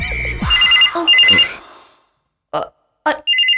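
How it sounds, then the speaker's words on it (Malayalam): A telephone rings loudly in trilling electronic bursts, pauses briefly, then starts again in short repeated rings, with some brief noises between rings. "ഫോൺ അടിക്കുന്നു."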